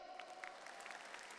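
Faint, distant audience applause at a stand-up comedy show in Padang, a brief patter of clapping from a crowd, quiet and steady.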